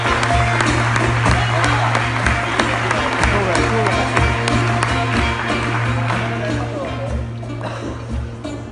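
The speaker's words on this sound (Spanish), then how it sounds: "Un fuerte aplauso." Live audience applause at a folk music performance with tambourine players, a dense steady wash of clapping held at a loud level throughout, with a sustained low tone underneath and a voice talking over it.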